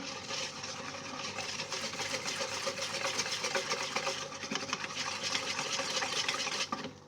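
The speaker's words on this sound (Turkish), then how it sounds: "Şimdi bunu iyice çırpıyorum şöyle" Lemon juice, yogurt and flour whisked together for a soup dressing, a steady scraping, rubbing rhythm that runs without pause, close and moderately loud.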